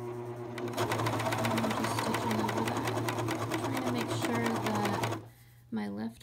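A Juki combo machine stitches a coverstitch along a fabric edge with a steady, fast mechanical whir for about five seconds, then stops abruptly before a voice speaks briefly.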